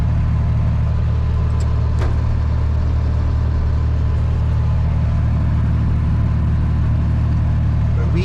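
A tractor engine drones steadily while mowing an overgrown peanut field with a bush hog, a loud, constant low rumble that runs through the whole stretch with little change.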